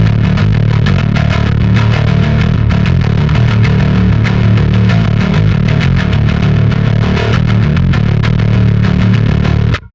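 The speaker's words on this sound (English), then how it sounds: "let's dial in a B3K sound, which is the heavier distortion" A loud, heavily distorted bass guitar through a Darkglass Microtubes 500 combo amp on its B3K heavier distortion plays a continuous gritty riff, thick and saturated, with no talking over it.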